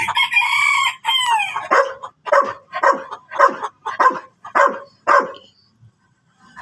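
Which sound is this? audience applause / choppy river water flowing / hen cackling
hen cackling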